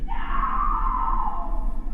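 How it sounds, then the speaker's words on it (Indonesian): A woman's scream in a horror video game, one sustained, loud, high cry held for nearly two seconds over a constant low background hum. "Tiba-tiba ada suara teriakan perempuan"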